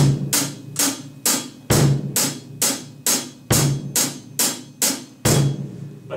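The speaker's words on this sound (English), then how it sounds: "That bass drum will go with his low notes." A drum set bass drum joins a low-register instrument part in a music lesson, landing as punchy hits in a steady, slightly uneven pattern alongside sharp cymbal-like attacks, loud and without talk.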